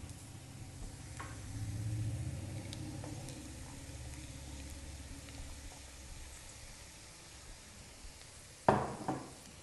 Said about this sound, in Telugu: గోరుచిక్కులను వేసి ఈ గోరుచిక్కులను కూడా ఆయిల్లో బాగా కలిసేలాగా కలుపుకోవాలి